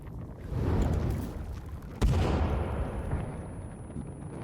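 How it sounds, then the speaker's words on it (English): A grenade goes off in the game Sons of the Forest, a sudden deep boom that rolls into a rumbling decay, set against a low, steady background roar. "let me try and chuck a grenade behind him"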